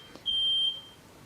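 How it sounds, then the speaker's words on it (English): A household smoke alarm set off by burnt breakfast gives a single sharp, high-pitched electronic beep lasting about half a second, fairly faint in a quiet room. "our smoke alarm, I think."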